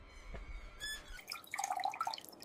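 Water drips from a tap in a quiet room: a few faint, bright plinks scattered over a couple of seconds, close and soft.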